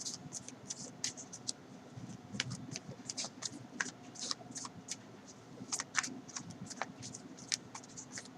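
Tarot cards shuffled and drawn by hand, a run of crisp riffling flicks and soft slides close up, quiet and irregular, with no talking.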